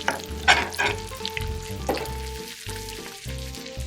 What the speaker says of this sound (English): Place the hot metal pan carefully onto the wood base.